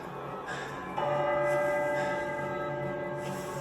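Church bell ringing in The Vampire Diaries, a struck bell with a long resonant hum that swells after a second and sustains, slowly fading, with no talk over it.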